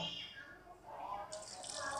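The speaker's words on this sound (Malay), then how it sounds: "Kemudian kita masukkan air dalam satu cawan." Warm water from a cup poured into a cooking pot of duck being mixed, a soft splash and trickle rising near the end, with light kitchen noise around it.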